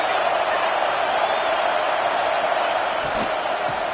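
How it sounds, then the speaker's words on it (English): A college football stadium crowd in the Oregon Ducks versus USC Trojans game roars on a third down in the red zone, a dense, continuous wall of noise that stays loud throughout. "Third down play in the red zone, and this crowd is at fever pitch."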